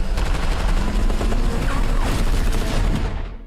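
Dense, sustained automatic gunfire from a film trailer car chase, loud and continuous with overlapping rapid shots and rumbling booms, fading slightly at the end.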